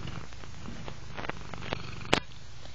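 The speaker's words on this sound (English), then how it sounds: "Why are you being a purr kitty," A quiet, low rumbling purr from a nearby cat, continuous and soft, with a brief sharp click partway through.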